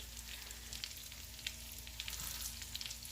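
Quiet, steady sizzle of green tomatoes frying in a pan, crackling and popping softly with no voices.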